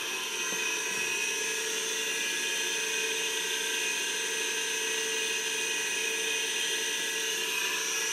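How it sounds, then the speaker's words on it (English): A 2hp three-phase air compressor motor runs at full speed on a variable frequency drive, giving a steady, unbroken electric whine with layered tonal hum at constant loudness throughout. "so the VFD slowly ramps the motor up to full RPM, so you can see it's at 60 now, and the motor is running"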